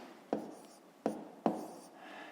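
Pen or chalk marks numbers for a fifth-grade long division problem, three short, sharp close taps and strokes spaced irregularly, with no voice.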